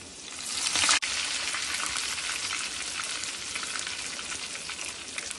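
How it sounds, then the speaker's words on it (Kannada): Crushed garlic and curry leaves fry in hot oil for a tempering, a steady crackling sizzle broken by one brief sharp burst near the start, close and continuous with no talk. "ಬೆಳ್ಳುಳ್ಳಿ ಸ್ವಲ್ಪ ಜಜ್ಜಿ ಹಾಕೊಂಡಿದ್ದೀನಿ. ಅದು ಬ್ರೌನ್ ಕಲರ್ ಬರ್ತಾ ಇದೆ."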